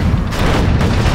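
Artillery and gunfire in the Command and Conquer: Generals video game, a dense, loud rumbling boom with no gaps over about a second.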